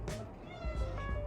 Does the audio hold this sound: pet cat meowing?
yes